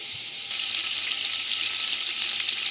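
Margarine and vegetable oil melt together in a pan on a stovetop for semolina halva, giving a steady, close hiss with no talk.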